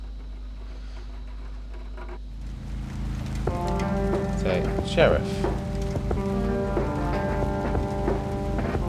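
Steady rain patters and hisses in the point-and-click mystery game Kathy Rain, with a low drone and light music beneath it; someone talks briefly over the downpour.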